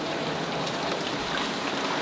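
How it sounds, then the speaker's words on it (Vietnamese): Heavy rain pours down outside a house, making a dense, steady hiss that fills the whole stretch without letting up. No one talks over it. "bên ngoài mưa rất là to các bác ạ"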